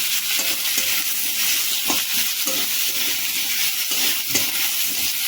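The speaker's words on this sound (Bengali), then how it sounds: "আলু পেঁয়াজটাকে একদম সুন্দর করে একদম ভাজবো" Potatoes and onion fry in a pan with a steady, close sizzle and hiss, broken by occasional stirring scrapes, no voices.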